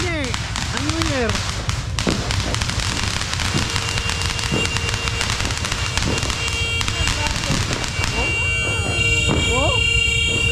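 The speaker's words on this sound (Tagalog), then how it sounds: "Grabe, paputok dito." Repeated New Year fireworks bangs and crackles burst over a steady background din, with people talking nearby and a high whistling tone near the end.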